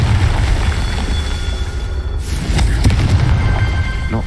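A Confringo blasting curse goes off in a fantasy video game as a sharp burst followed by crackling, popping debris, loud and close over a constant low rumble of game ambience.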